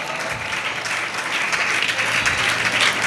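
Steady applause from an audience fills a Jain award ceremony, a broad continuous wash of clapping that holds at an even level throughout.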